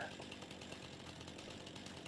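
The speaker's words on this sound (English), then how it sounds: "let's do it with a proper chainsaw this time" A chainsaw runs steadily in Farming Simulator 25, a continuous buzzing drone that holds at an even level for the whole stretch.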